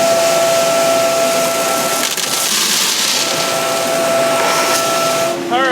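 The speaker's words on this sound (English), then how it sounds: "now we vacuum out the mini hopper" A vacuum hose sucks debris out of a mini hopper, a loud steady rushing roar with a constant whine running underneath, briefly rattling and shifting midway before the suction drops off near the end.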